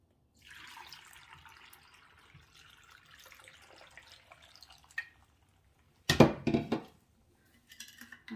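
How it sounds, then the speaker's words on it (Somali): Water poured into a blender jar of chopped vegetables while a healthy homemade drink is made: a steady, soft rushing pour lasting several seconds, then a brief clatter and knock, with no one talking. "waxaan ku shubayaa biyo"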